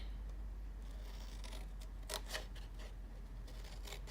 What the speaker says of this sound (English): we're going to cut up each of the score lines up to the notch there